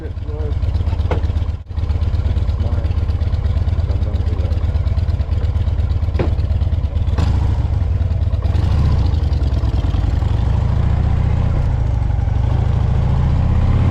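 A motorcycle engine idles steadily up close with a low, continuous rumble, a few clicks and clatters on top, and a voice speaking over it.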